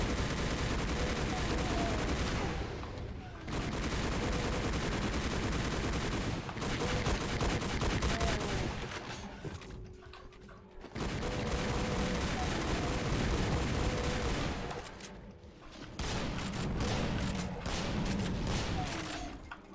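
Weapons fire endlessly in the Doom video game, with dense, rapid gunfire and explosive blasts in long sustained volleys broken by a few short pauses.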